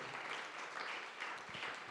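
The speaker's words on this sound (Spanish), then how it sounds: "¿Cuánto le dan un aplauso fuerte a Él?" A church congregation applauds during a Good Friday sermon on the seven words of Jesus on the cross, a soft but continuous patter of many hands heard at a distance without speech.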